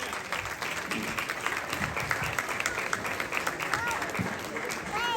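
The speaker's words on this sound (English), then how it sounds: "Applause for a gentleman who exudes energy." An audience at an International Women's Day event applauds a guest being called up, producing steady, dense clapping throughout with crowd voices and cheers mixed beneath it.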